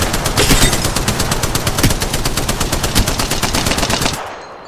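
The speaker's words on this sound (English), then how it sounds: "Shot fired!" Gunfire in the video game Apex Legends: a loud, fast, steady stream of automatic shots lasting about four seconds before stopping abruptly, with no talking.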